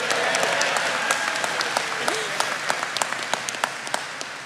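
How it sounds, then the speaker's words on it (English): Applause from the crowd at the Apprentice School Class of 2022 graduation, full steady clapping that fades into scattered individual claps. "Let's give her a round of applause"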